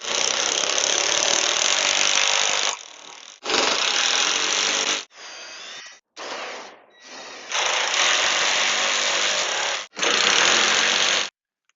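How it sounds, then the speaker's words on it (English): A power drill whirs in several loud bursts of a few seconds each, with brief pauses between, pre-drilling holes through sheets into wooden cross beams, close by and with no talking. "Now I'm just going to pre-drill out the holes that are going to secure all of the sheets together"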